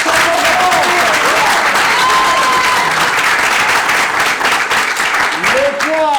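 Loud, dense audience applause for a government education minister at a televised show, sustained clapping and crowd noise throughout with voices and cheers mixed in.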